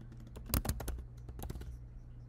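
Computer keyboard typing while entering key-value map data properties, a quick close burst of crisp key clicks, louder at first and then trailing off into lighter taps.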